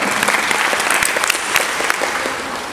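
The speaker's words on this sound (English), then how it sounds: "please, a round of applause for NRI" A round of applause from a seminar audience in Akure, Nigeria, a loud burst of crowd clapping with sharp individual claps standing out, continuous through the short stretch.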